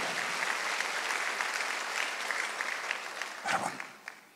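A church congregation at a Wednesday worship service claps together, a steady mid-distance patter of many hands that holds evenly, then swells briefly near the end before tapering off.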